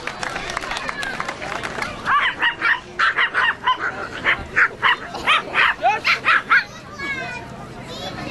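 Several dogs at an outdoor animal service event bark and yip in a quick run of sharp, fairly close bursts through the middle, with crowd murmur and a voice over a PA underneath.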